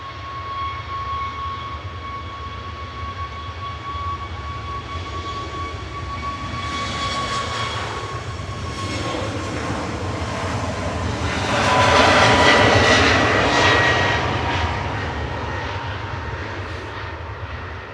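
A TUI passenger jet departs Manchester Airport, its engines roaring steadily with a high whine that swells loud near the end as it powers away, heard from a distance.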